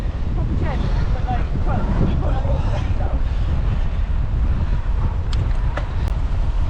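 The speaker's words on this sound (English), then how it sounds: "It's windy." Steady wind roars and buffets the microphone throughout, a dense low rumble with no pauses.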